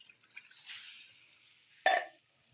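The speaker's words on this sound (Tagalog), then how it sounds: "Lagyan natin ng tubig." Water poured from a container into a pan of sardines, pepper and seasoning mix, a soft, quiet trickle building over a second, then a brief sharper splash before it stops.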